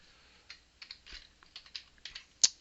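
Someone types a short message on a computer keyboard, with sparse, irregular key clicks and one sharper tap near the end, close and quiet in an otherwise silent room.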